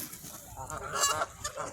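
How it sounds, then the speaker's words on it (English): Bar-headed geese honk continuously at a massive feeding frenzy, a dense, overlapping chorus of nasal calls from a large flock, steady and fairly loud throughout. "I can see a bar-headed goose."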